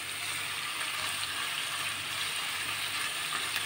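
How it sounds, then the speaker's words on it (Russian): Pollock fillets and onions fry in a pan, giving a steady, close sizzling hiss that lasts the whole short stretch without talk. "Здесь у минтай жарится, прям вот минутки по 2-3 с обоих сторон."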